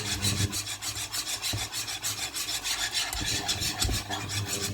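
Butter caramel is stirred around the edges of a pan, giving a continuous scraping, rasping rub with rhythmic strokes, close and fairly quiet, with no voices.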